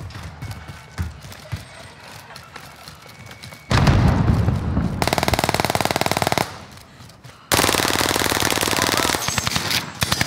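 Automatic gunfire in Call of Duty Warzone, loud sustained rapid bursts of shots in two long strings, close and dominant, with gameplay noise between.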